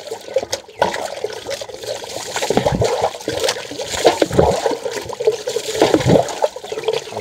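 Cold water being poured over the feet and body while bathing outdoors in the hills, with uneven splashing gushes and trickles that come in bursts, close and fairly loud, without speech.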